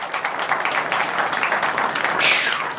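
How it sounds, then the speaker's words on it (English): A live conference crowd applauds a guest, steady close clapping throughout with a brief whoosh near the end. "Let's give Tyler a round of applause"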